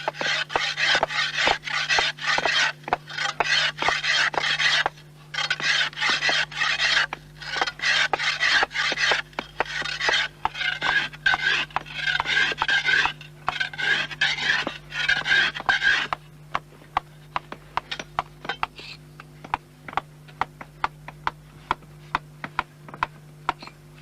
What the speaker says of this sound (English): The final scraping and shaping at the wooden stake is done by a scythe blade.